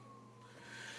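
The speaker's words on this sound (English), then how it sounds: "siren." A siren wails faintly in the distance with a steady rising tone, heard indoors under a constant low background hum.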